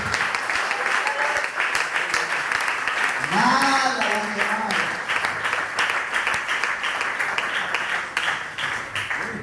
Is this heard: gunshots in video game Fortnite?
no